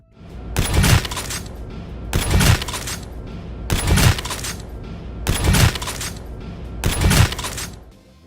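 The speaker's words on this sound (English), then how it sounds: "giving you this super deep thunk sound as your shot blasts through their skull" Deep, punchy headshot thunks from a Call of Duty game, five heavy impacts landing at a steady rhythm about every one and a half seconds, each with a sharp crack and a low booming body over a faint background.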